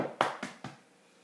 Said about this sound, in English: we're going to break our egg into the bowl and beat it with the fork.